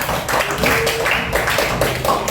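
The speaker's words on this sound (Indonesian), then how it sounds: "Berikan tepuk tangan pada gadis ya." Students in a classroom clap together in a burst of dense, close applause that continues steadily for a couple of seconds.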